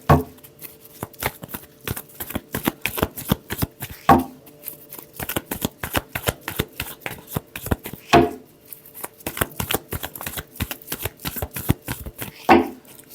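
Tarot cards are shuffled in quick, crisp riffling bursts, close and clear, with brief pauses and a few louder card slaps between rounds.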